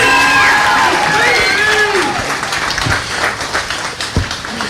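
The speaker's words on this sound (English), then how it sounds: "Give him a round of applause." Wedding guests at a reception applaud the best man, loud clapping mixed with cheers and whoops, a few raised voices over it, tapering slightly toward the end.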